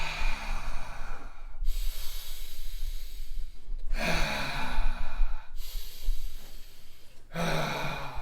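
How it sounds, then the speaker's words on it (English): A person does reverse breathing, drawing long audible breaths in and out in a slow rhythm, close and breathy with airy hisses and no speech. "go ahead and take 10 breaths reverse."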